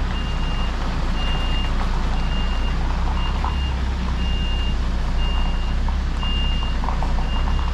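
A truck reversing a trailer gives off evenly spaced reversing beeps over a steady, loud low engine rumble, with no talk.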